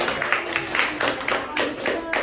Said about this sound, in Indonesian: tepuk tangan buat Yesi